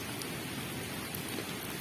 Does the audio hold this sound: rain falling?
yes